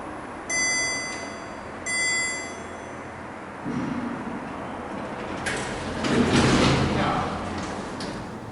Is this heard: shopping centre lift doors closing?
yes